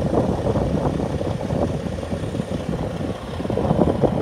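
A truck engine idles steadily, a continuous low rumble that stays close and fairly loud throughout, swelling slightly near the end, with no talk over it.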